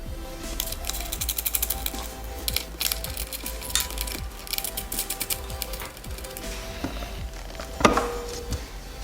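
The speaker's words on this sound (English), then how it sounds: "I'm going to start by removing the charcoal canister from the bracket by removing these 2 10mm" Two 10mm bolts being unscrewed from the charcoal canister bracket on an XR650L motorcycle, a close run of rapid metallic ratchet clicks and small tool taps that continues steadily, then ends in a louder clunk.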